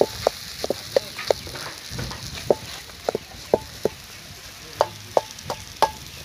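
An egg mixture is stirred and chopped in a frying pan for a triangular egg roll. A spatula strikes the pan in a steady run of crisp, close clicks over a faint, continuous sizzle.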